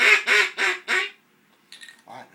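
Someone blows a duck call while demonstrating it: four loud, evenly spaced quacks, close and sharp, followed by a brief pause and a couple of softer, shorter notes.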